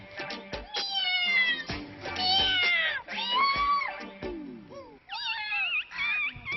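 A cat meows repeatedly and insistently in a home kitchen, a run of loud, close, drawn-out cries with a few short pauses, while faint voices sound in the background.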